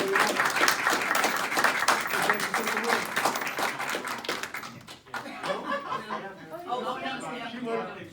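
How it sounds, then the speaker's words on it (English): Applause at a city council meeting, dense clapping through the first five seconds that thins out, with chatter and some chuckling underneath and talk continuing afterward. "We're going to grab a applause for this."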